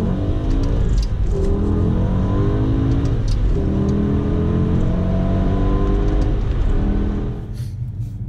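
A BMW E60 M5 with SMG gearbox in M mode accelerates hard, its engine note climbing steadily and loudly through the gears with quick shifts, then easing off at the end.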